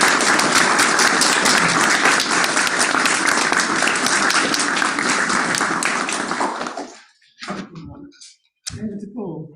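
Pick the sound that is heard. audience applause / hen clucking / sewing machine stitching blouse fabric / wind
audience applause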